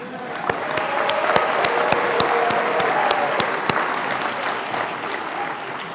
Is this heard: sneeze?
no